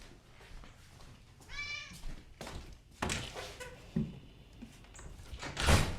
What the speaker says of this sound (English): I apologize for the meowing.